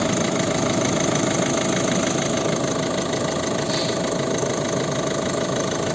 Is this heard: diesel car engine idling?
yes